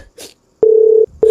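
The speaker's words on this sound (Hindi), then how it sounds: "मीना ने आखिरी बार विकास को फोन किया।" A telephone tone sounds in one steady sustained beep, then a second begins, loud and clean, after a short muffled noise at the start.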